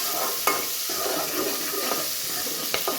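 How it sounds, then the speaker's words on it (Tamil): Onion and garlic fry in a pan while being stirred, giving a steady sizzle broken by several sharp scraping and clinking stirs, close up with no voices. "மொத்தமாக வெங்காயம் பூண்டு எல்லாமே வந்து போட்டுக்கலாம்."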